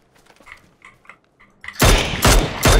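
Video game gunfire bursts in suddenly and loudly, a dense run of shots after a stretch of faint, scattered game sounds.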